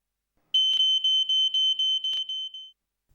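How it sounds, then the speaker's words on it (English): An Ei 2110 multi-sensor fire alarm sounds a loud, shrill, piercing tone in a steady run of about nine rapid pulses, close and alone, then stops. "the multi-sensor has entered the alarm state without either the temperature or smoke levels reaching their normal alarm thresholds"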